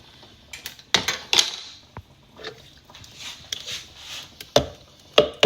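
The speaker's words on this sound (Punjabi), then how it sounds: "ਜੱਗ ਨੂੰ ਲਵਾਂਗੇ ਓਪਨ ਕਰ ਆਪਾਂ ਖੋਲ ਲਾਂਗੇ" A blender jug holding spinach purée is handled and opened, with scattered sharp clicks, knocks and clatters of plastic and utensils, close and fairly light, separated by quiet gaps.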